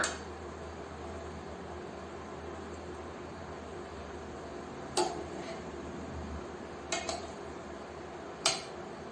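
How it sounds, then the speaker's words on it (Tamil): Potato fry slices are turned in a pan: a few sharp, spaced-out metallic clinks and scrapes of a utensil over a faint, quiet hiss. "இப்போ பொட்டேட்டோலாம் திருப்பி போடலாமா?"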